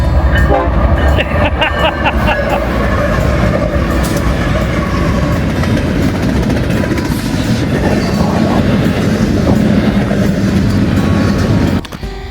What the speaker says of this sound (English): here comes the train. Let's see if we can get them to honk.